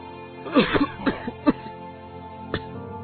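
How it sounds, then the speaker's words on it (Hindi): A man coughs several times in a quick, harsh cluster, pauses, then gives one more cough, close and fairly loud with no talking. "जोर जोर से खांसते हुए अपने घर पहुंचा"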